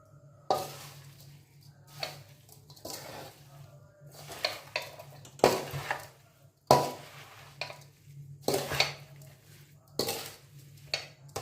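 A ladle clinks and scrapes in a pot of pickle, giving scattered sharp metallic knocks about a second apart over a low steady hum, close and fairly loud.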